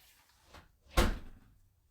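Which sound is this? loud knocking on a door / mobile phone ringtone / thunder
loud knocking on a door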